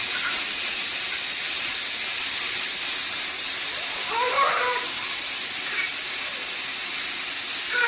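A pressure cooker with cassava inside whistles steadily, a loud, continuous high-pitched steam hiss that runs without a break, with a faint voice briefly heard beneath it midway.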